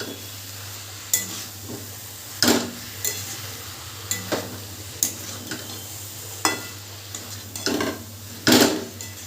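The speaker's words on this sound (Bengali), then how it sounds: "পুঁই পাতাটা দেওয়ার পরও খুব ভালো করে মিশিয়ে নেব।" Malabar spinach leaves are mixed into vegetables and matar dal in a pan with a spatula, producing scattered scraping and clinking strokes over a faint low sizzle.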